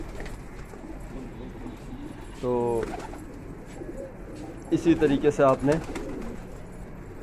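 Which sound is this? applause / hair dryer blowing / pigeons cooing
pigeons cooing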